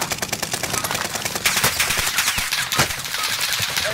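Rapid automatic gunfire in Call of Duty Warzone on the Caldera map, a steady loud rattle of close shots with heavier cracks mixed in and no talk over it.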